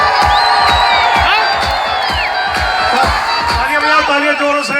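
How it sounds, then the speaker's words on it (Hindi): Audience at a Samsung employees' achievement celebration clapping in loud rhythmic unison, with cheering, whoops and music underneath. "तालियां जोरों से।"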